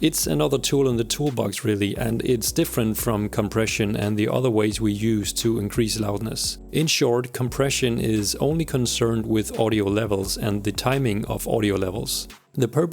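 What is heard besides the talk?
No everyday noise stands out behind the speech.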